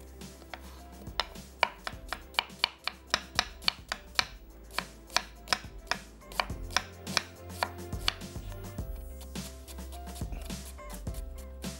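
Knife chopping sliced onion roughly on a board, a quick run of sharp, regular chops that grows looser and softer toward the end, close and clear with no talking.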